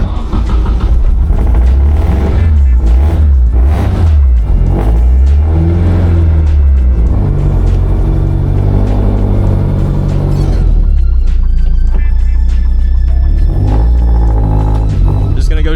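A Nissan S14 with a KAAZ 1.5-way limited slip differential and rear sway bar fitted, resting on jack stands, starts and revs hard; the engine sits close and loud, rising and falling through repeated throttle blips while people talk over it.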